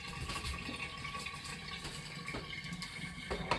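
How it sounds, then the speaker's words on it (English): Tap water runs steadily over fresh turmeric root being rinsed, a soft continuous gush and splash that stays fairly quiet throughout. "So I'll rinse my turmeric"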